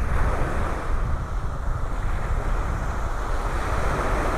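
Ocean surf and steady breeze at a beach in North Naples, Florida on a humid early morning, a continuous loud wash of waves with wind rumbling against the microphone, no voices.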